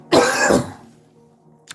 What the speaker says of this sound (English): Apologies for the cough, ladies and gentlemen.